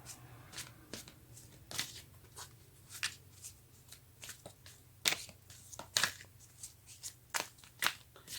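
Tarot cards being shuffled by hand, crisp riffling bursts and slaps in an uneven rhythm, close and fairly quiet, with no talking.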